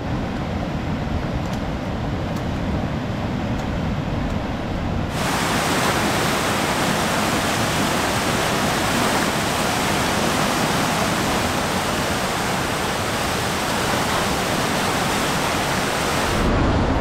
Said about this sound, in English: That's a huge waterfall.